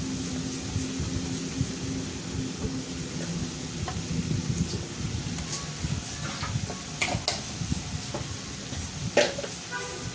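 Spinach and egg curry sautéing with spices in a pan, a continuous close sizzle and hiss with irregular scraping stirs and clinks layered over it.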